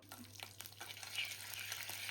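Spices and dried red chillies sizzling in hot oil in a kadai for tempering, a faint, steady crackle and fizz with soft stirring, over a low electrical hum, no talking.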